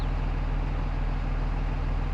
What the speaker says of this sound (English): I gotta zoom in so we can hear this engine.